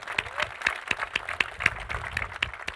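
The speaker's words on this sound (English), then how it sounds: "we can give Fred a round of applause on that" An audience at a campus speaking event gives a round of applause, a steady patter of scattered clapping that stays fairly faint and even across the few seconds.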